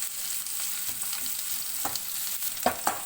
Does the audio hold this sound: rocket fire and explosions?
no